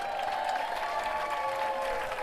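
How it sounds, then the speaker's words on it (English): Crowd applause at a high school varsity football game: a continuous spread of clapping from the stands, steady and fairly loud, with faint tonal sounds running underneath. "Let's hear another round of applause for our Squire cheerleaders."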